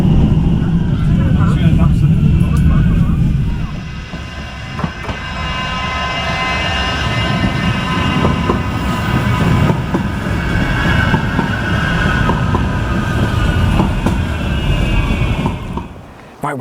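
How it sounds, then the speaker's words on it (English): A train passes at Navigation Road station, where the Mid-Cheshire rail line runs beside the Metrolink tram line toward Altrincham. Its loud, continuous rumble and rail clatter carry on for many seconds, with voices at times. "Did just see a train, got very lucky."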